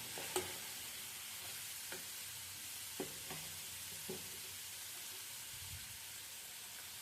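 Curry leaves frying in hot oil in a pan while making a tomato chutney: a soft, steady sizzle with a few faint scraping stirs of a spoon at intervals, quiet and close.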